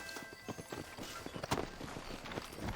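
Horse hooves clip-clop at a walking pace in Red Dead Redemption, a run of close, distinct thuds in an irregular rhythm that builds slightly toward the end, with faint game background underneath.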